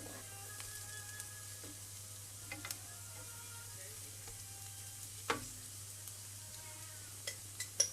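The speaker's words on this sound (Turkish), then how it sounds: "Soğanları çok da fazla yakmayacağım. Biraz yani pembeleşinceye kadar kızartacağım." Steady sizzle of onions frying in a pan until lightly pink, with occasional soft clicks and a few stirring scrapes, no voices.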